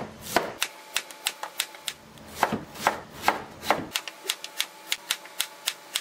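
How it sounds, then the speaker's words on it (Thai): A knife chops daikon radish on a cutting board for Korean bossam in quick, steady, rhythmic strikes, close and crisp, with no voices. "ต่อไปผมจะหั่นหัวไชเถาต่อครับ"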